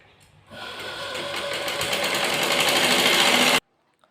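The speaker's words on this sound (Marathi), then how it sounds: "तर आता मी काही तिच्या ब्लाऊजला टिपा मारून देते" Electric sewing machine stitching hems on a blouse, starting up after a brief pause and running steadily with a loud, fast, whirring rattle for about three seconds before stopping abruptly, close by.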